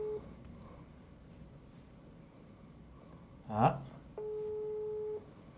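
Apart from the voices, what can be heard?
telephone ringing tone during a call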